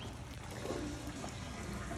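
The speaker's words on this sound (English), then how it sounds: "you can really hear all that water going in there" Rainwater from a downspout pouring into a row of connected rain barrels, a steady, continuous rushing and splashing of water heard up close with no talking.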